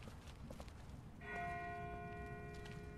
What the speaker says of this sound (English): Oh, schon wieder die Glocke.